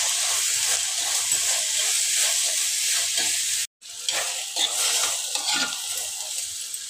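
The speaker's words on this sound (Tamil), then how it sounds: "சுண்டைக்காய்கள் எண்ணெயிலேயே நல்லா வதக்குங்க." Turkey berries sauté in hot oil with onion, tomato and a little salt for a spicy tamarind curry. A loud, steady sizzle breaks off for a brief moment, then resumes with the stirring.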